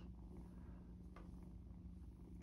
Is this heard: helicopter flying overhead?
no